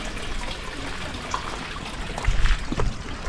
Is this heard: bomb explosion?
no